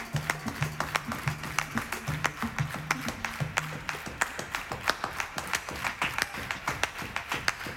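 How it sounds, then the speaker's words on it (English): Live DJ set audience in Los Angeles clapping hands in double time, a steady rhythmic string of sharp claps running alongside a pulsing beat throughout. "Clap your hands, y'all."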